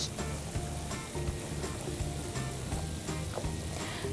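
Tomato paste fries in a pan for garlic meatballs, giving off a steady, dense sizzle with fine crackles and no pauses, close and fairly loud throughout.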